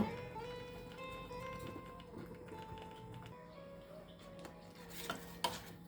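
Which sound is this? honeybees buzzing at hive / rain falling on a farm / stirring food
stirring food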